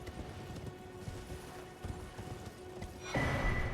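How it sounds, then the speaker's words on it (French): A horse in the Elden Ring video game moving along with rhythmic hoof clip-clops at moderate volume, joined near the end by a louder burst of game sound, with no talking. "Donc ici on est sur le cheval."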